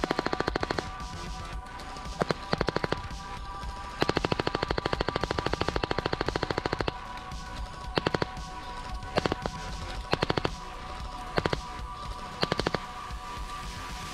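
A Specna Arms SA-46 Core airsoft replica fires 0.28g BBs outdoors in repeated bursts and strings of rapid shots, sharp mechanical clatter separated by short pauses, over a steady background hum.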